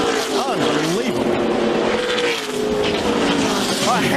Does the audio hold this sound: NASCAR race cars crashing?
yes